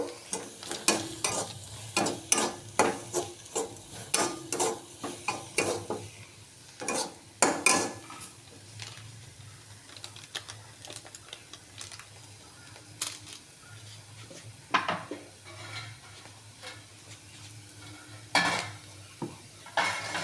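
Vegetables with Maggi masala fried and stirred in a pan for uttapam, with repeated metallic spatula scrapes and clinks against the pan over a low, steady sizzle, the stirring coming in bursts and pausing between.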